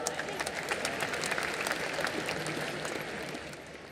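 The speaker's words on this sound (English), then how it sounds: "Please, once again, let's give a round of applause for Dr." A crowd at the IFFI Goa film festival closing ceremony gives a round of applause for Dr. Pramod Sawant: continuous clapping from many hands, moderately loud and steady, tapering slightly toward the end.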